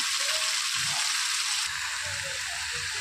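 Spices being sautéed in a pan for a Bengali snakehead fish (shol mach) curry, giving a steady, broad sizzle with some faint low clatter from stirring, close and moderately loud with no talking.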